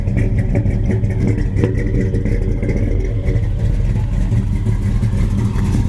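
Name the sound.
1975 Plymouth Duster engine running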